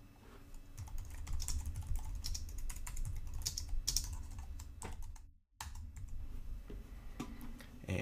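Rapid, continuous clatter of code being typed on a computer keyboard, close and steady, with a brief pause midway before the keystrokes pick up again.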